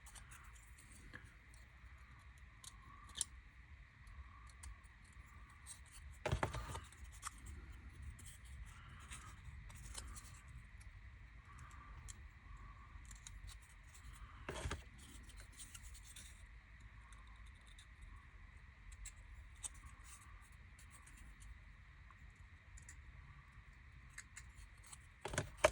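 Small cut-out parts of a JS Models card chimney kit being cleaned up by hand, with faint scraping, rubbing and snipping sounds, a few sharper clicks and taps standing out against a quiet background.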